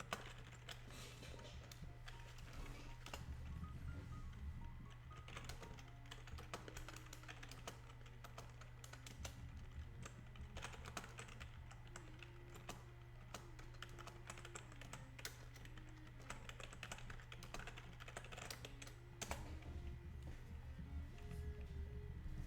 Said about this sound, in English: I need to get better at touch typing.